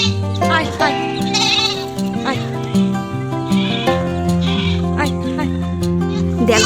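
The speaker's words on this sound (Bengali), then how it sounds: "তার সঙ্গে রয়েছে কিছু ছাগলও" Goats bleat repeatedly at close range on a farm that also keeps chickens, their wavering cries overlapping with people talking nearby.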